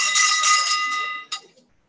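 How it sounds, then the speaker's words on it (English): A handbell rings loudly at a blind citizens' conference to call attendees to their seats, a sustained bright ringing for over a second, cut off, then one short final strike before quiet. "Ring that bell, please, Callum."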